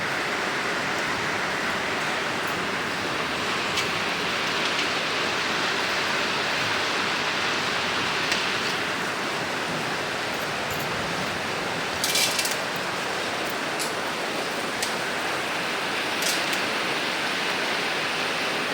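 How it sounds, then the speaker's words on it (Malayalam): Heavy rain pours down in a dense, unbroken hiss near a home kitchen, with a few sharper patters and clinks scattered through the steady downpour. "ഇവിടെ ഭയങ്കര മഴയാണ്"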